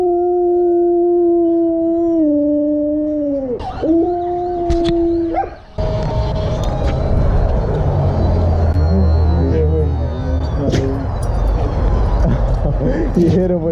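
Siberian Husky and German Shepherd dogs howl in sustained, wavering tones for several seconds, then break into louder barking, yipping and scuffling, with people talking over the noise.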